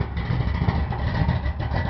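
A cold engine with a manual-choke carburetor, the choke left unconnected, runs steadily at idle with a dense, rough low rumble that stays loud and even throughout, with no voices.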